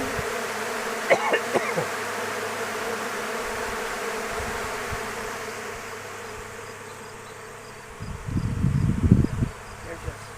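Honeybees drone steadily around an open hive during an inspection, a dense, continuous buzz with individual bees passing close, a few brief murmurs of voice and handling rustle near the end.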